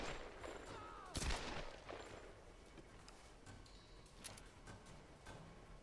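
Gunfire in the 2013 Tomb Raider video game: a faint sharp shot near the start, then a scattered string of quieter pops under low game ambience.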